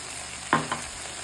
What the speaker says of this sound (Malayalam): ഈ ചീര അങ്ങോട്ട് ഇട്ടിളക്കി എടുത്താൽ മതി